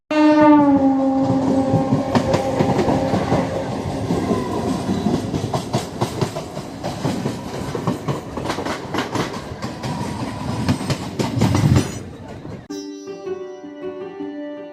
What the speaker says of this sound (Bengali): একদম কারেক্ট টাইমে আমাদের ট্রেন ছেড়ে দিল।